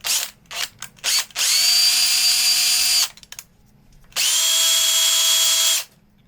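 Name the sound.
grinding off a PCB board corner with power tool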